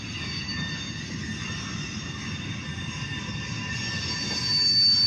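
A short OC&T freight train of hopper cars rolls by near Titusville, Pennsylvania, a steady close rumble of wheels on rail with high metallic squeals threading through and growing louder toward the end.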